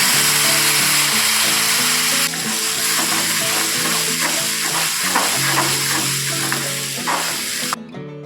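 Cumin seeds and a pinch of asafoetida hit hot oil in a kadai after mustard seeds, giving a loud, steady crackling sizzle with scattered pops that carries on alone throughout.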